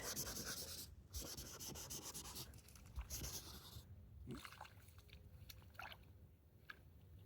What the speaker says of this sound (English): I'm just taking a bit of paper towel and blending all this in.